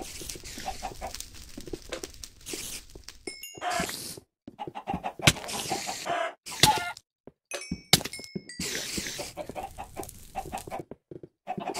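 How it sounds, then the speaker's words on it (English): Chickens cluck and squawk repeatedly in the video game Hack Slash Mine, in irregular bursts mixed with thunks and other game effects, fairly close and loud, with no talk over them. "Fuck out of here, chicken."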